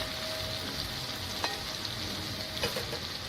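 Potatoes sizzle in a pan for sabudana khichdi, giving a steady, soft frying hiss with a couple of faint stirring clicks and no talking.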